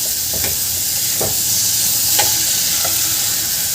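Washed rice is stir-fried in a pan over medium gas for sole bhat, a spiced rice, giving a steady sizzle broken by repeated close spoon scrapes and stirs; no voices.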